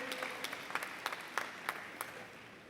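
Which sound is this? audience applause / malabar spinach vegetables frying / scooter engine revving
audience applause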